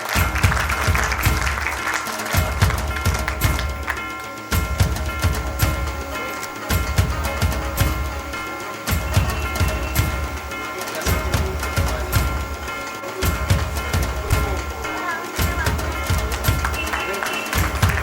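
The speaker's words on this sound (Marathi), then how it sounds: "त्यांच्यासाठी एकदा जोरदार टाळ्या होऊ द्या" A crowd at a Labor Day celebration honouring workers claps loudly for guests lighting the ceremonial lamp, with dense sustained applause and music with rhythmic beats underneath, lasting throughout.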